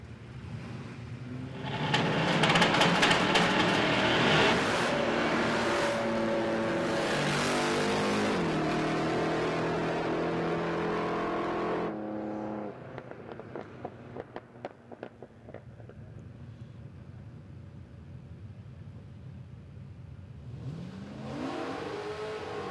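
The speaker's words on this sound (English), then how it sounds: "Gary Brett in the Premier. Big block Chev powered" A big block Chevrolet-powered drag race car at a raceway revs hard and loud in rising and falling blasts, then cuts to choppy idle pops before another rev builds near the end.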